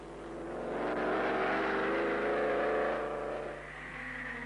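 A vintage Silver Arrows-era Grand Prix racing car driven by Nuvolari roars through a banked carousel turn, its engine note swelling loud and sustained for several seconds before easing off as it passes.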